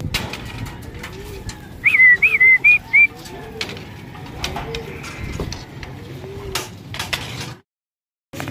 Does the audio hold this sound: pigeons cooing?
yes